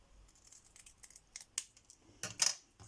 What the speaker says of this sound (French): Je vais découper les coins pour que ça fasse la forme tag.